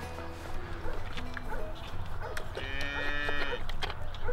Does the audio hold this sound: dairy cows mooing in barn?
yes